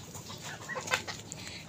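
A chicken clucks in short, close, choppy bursts over a noisy outdoor backdrop in a rural yard, with no talking during the brief moment.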